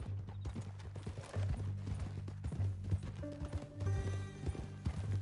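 Horse hooves clip-clop in a steady walking rhythm in Red Dead Redemption 2, with a brief whinny and snort partway through over a low ambient hum.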